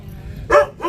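A dog in an Indian village gives two short, close barks in quick succession, the first louder than the second, over faint background noise.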